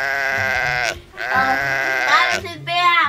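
A sheep offered for sale bleats repeatedly in loud, wavering, drawn-out calls with brief pauses between them, close by, while people talk nearby.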